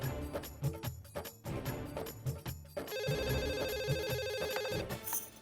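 A telephone rings while a call is being placed in the Hindi sitcom Taarak Mehta Ka Ooltah Chashmah, a loud, melodic ringtone pattern repeating over a few seconds and heard alone.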